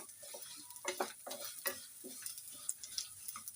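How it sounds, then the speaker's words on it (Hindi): A spoon stirs spices, including Kashmiri red chilli and ajwain, in a frying pan, making soft irregular scrapes and taps over a faint sizzle, close and quiet with no talking. "सारे मसाले को हम मिक्स कर लेंगे।"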